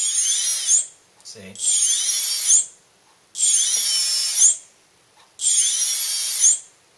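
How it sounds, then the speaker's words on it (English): An RC electric motor driven through a Scorpion speed controller, four bursts of high whining spin each cut off abruptly by a hard brake, with a brief spoken word between the first two runs. "So if we flip the switch, let the system reboot again, and I try and work the motor"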